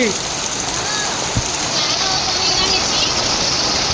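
Heavy rain pours down in a dense, steady hiss, loud and constant, with a voice faintly heard over it.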